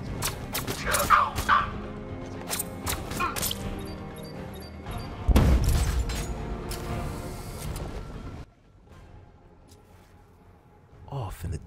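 A grenade goes off in Batman Arkham Knight with a sudden, heavy blast and crash halfway through, amid busy game combat sounds and a talking voice, then fades into a lingering rumble before quieter ambience.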